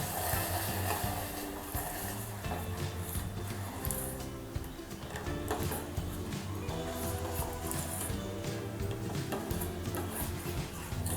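A spoon stirs lemon juice into simmering homemade rose milk syrup in a pan, giving soft continuous scraping and clinking over a steady bubbling sizzle.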